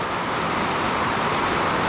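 Heavy downpour in the Philippines, a steady dense broadband hiss of rain falling continuously and fairly loud, with no voices.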